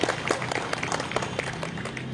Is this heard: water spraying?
no